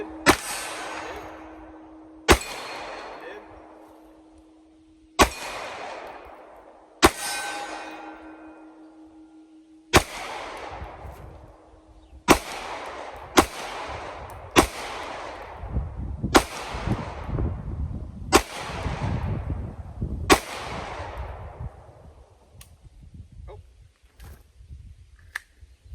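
A pistol fitted with a Tyrant Designs +4 magazine extension fires about a dozen sharp, loud shots outdoors on a gravel lot, at irregular intervals of one to three seconds, each shot ringing and echoing briefly.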